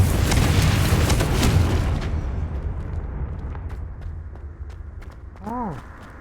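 A Confringo fire spell explodes in a video game: a loud, broad blast that slowly fades over several seconds, followed near the end by a brief rising and falling tone.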